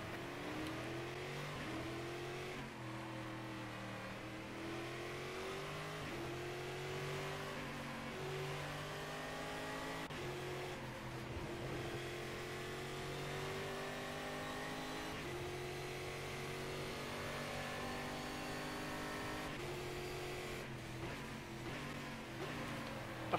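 A stock car engine in Game Stock Car Extreme roars continuously, revving up and down through gear changes with rising and falling pitch, loud and steady throughout.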